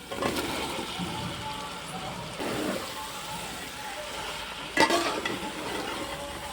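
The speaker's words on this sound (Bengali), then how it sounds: "আলু পটল দিয়ে কিছুক্ষণ একটু নাড়িয়ে চাড়িয়ে নেব" Potatoes and pointed gourd are stirred while frying in a pan, with a steady close sizzle and a few scraping stirs of the spoon.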